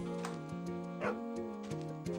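Short dog barks in the video game Wild Arms 3 sound several times over sustained game music, each quick yip fairly faint and evenly spaced.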